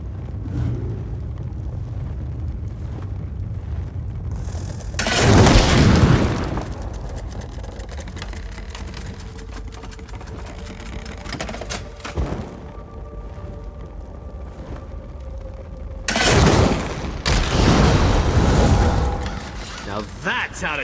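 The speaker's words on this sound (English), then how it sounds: "Let's blast the way out of here." Ballista bolts blasting a path open in Elder Scrolls Online, heard as two loud, broad booming bursts about ten seconds apart, each lasting a second or two, over a low rumbling game ambience.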